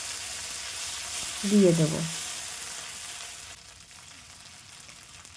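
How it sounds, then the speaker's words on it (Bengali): Cumin seeds and ground spice pastes (ginger, cumin, green chilli) fry in hot oil in a wok for a potato and soybean curry: a steady, close hiss with a brief louder burst of a voice midway, the sizzle easing near the end. "আবার কড়াইতে তেল দিয়ে জিরে ফোড়ন দিয়ে এক এক করে বাটা মশলাগুলো"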